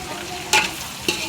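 Ivy gourd (dondakaya) curry sizzling in a pan, with two quick scrapes of a spoon stirring it over a steady background fry.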